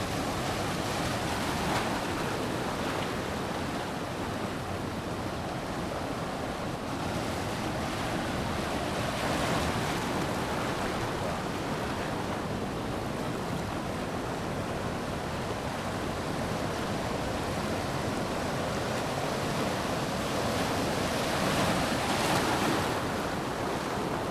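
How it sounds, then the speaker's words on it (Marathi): Big sea waves roll in along the Konkan coast during fishing, a continuous broad roar of surf with gusting wind buffeting the microphone and slow surges of swelling breakers. "त्यामध्ये मध्ये मध्ये लाटा मोठ्या येत आहेत"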